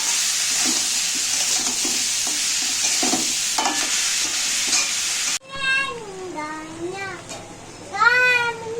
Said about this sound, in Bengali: এবার আমি সব কিছু মিক্স করছি।